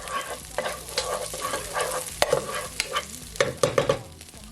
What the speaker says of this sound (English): Just gonna give it a stir, and I'm just gonna allow it just to saute just a bit for at least 10 seconds.